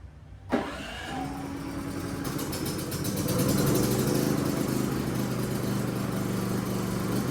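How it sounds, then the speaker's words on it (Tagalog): A Philking PK4200ie2A inverter generator starts up automatically after a power cut, a short click followed by a steady, rising engine hum that settles into a continuous drone, loud and close with no talking. "Dapat kusang mabuhay yung ating generator."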